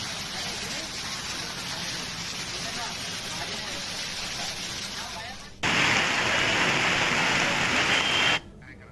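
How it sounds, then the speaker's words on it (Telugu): Heavy rain pours down in Medak district, Telangana, as a steady, dense hiss of falling water that jumps suddenly louder and brighter for a few seconds near the end before dropping back. "మెదక్ జిల్లాలో భారీ నుంచి అతి భారీ వర్షాలు కురుస్తున్నాయి"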